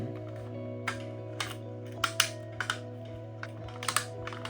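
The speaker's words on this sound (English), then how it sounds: "it was time to put the sides of the hull on. And again, just some nice clicking action." Plastic hull side parts of a Revell 1/150 Black Pearl pirate ship model kit snap together in light, irregular clicks, faint and close over a steady low electrical hum.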